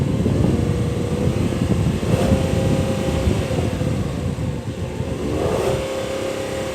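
The V6 engine of a 2019 Chevrolet Camaro convertible drones loudly and close, rising in two strong revs in neutral, where revs are limited to 4,000 RPM, the second climbing higher before easing off, with no voices.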